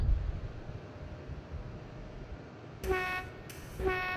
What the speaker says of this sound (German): Der hat doch das schönste Horn, oder?